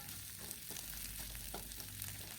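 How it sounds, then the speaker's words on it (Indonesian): Spice paste with galangal, lemongrass and bay leaves sautés in a pan for a tofu and egg stew, giving a steady low sizzle with a few soft stirring scrapes and no voices. "Kembali lagi ditumis ya sampai bumbu ini benar-benar matang dan juga wangi"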